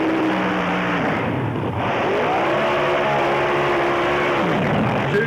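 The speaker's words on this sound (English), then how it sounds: "Two very tough burnouts. Two supercharged cars, both small block Chevys, but a dragster and an altered." A supercharged small block Chevy dragster and altered roar through burnouts at a drag strip, a loud, steady engine blare with rising and falling revs throughout.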